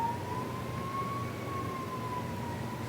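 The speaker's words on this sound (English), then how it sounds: "Excuse the sirens." Emergency vehicle sirens wail faintly in the distance, a single wavering tone sustained over low background rumble.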